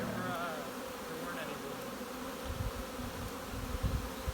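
Honeybees in a hive colony with laying workers, handled during an inspection of frames in a nucleus box, give off a steady broad drone that holds throughout, with a few low thumps and knocks near the end.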